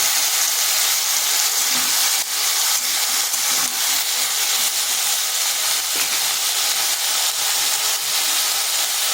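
Cut potatoes and taro hitting hot oil in a pan, a steady loud hiss and sizzle that fills the whole stretch without pause, with no talking.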